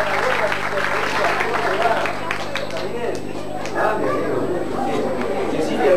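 An audience at a school poetry contest claps and chatters steadily, a dense wash of applause under a murmur of voices.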